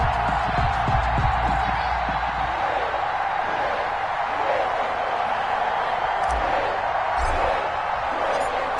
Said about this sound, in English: This crowd is ready as their guys get set to match up between the Las Vegas Raiders and the Cincinnati Bengals.